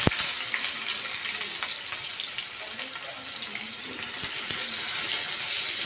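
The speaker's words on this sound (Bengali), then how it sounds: "পেঁয়াজটা একটু ভাজা ভাজা হয়ে আসবে" A whole onion fries in a small amount of oil in a kadai, producing a dense, steady, close sizzle with scattered crackles and pops throughout.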